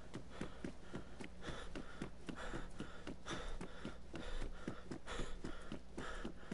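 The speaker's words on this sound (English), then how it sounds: "No, it's my character breathing" A video game character breathes heavily in a steady, rhythmic pattern of repeated breaths, close and continuous over a low ambient game background, with no talking.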